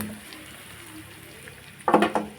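Potato cutlet mixture hitting a pan of onion tempering, a quiet stretch then a sudden crackling sizzle near the end, followed by a second smaller burst.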